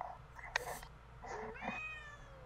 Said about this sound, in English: My cat is issuing disapproval.